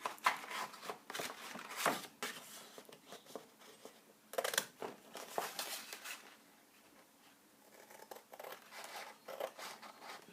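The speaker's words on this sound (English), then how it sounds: "Just use my scissors." Scissors cut through a 12x12 sheet of craft paper for a flipbook-style base, with faint, quiet snips and paper rustles coming in irregular bursts, close up and without talk.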